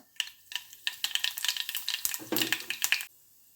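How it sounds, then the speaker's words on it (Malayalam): Mustard seeds sizzle and pop in hot oil in a pan while parippu curry is cooked, giving a dense run of sharp crackles and spatters close up that stops abruptly near the end. "ഇപ്പം എണ്ണ ചൂടായി വന്നിട്ടുണ്ടെങ്കിൽ നമുക്കിതിലേക്ക് കടുക് ഇട്ട് കൊടുക്കാം"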